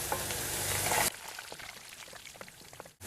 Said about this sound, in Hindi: तो अब ये प्याज को हम फ्राई कर रहे हैं गोल्डन ब्राउन होने तक